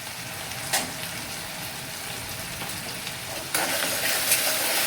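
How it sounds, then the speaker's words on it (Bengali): Spice masala of tomato paste, salt and turmeric sautéing in a pan, a steady soft sizzle and stir throughout with a couple of brief louder scrapes near the start and toward the end. "দিয়ে ভালো করে মশলাটা আমি কষিয়ে নেব।"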